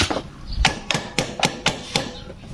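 Hammer taps on metal parts while a Fino 125 motorcycle engine is assembled, seven sharp close strikes in a fairly steady rhythm, alone with no talk.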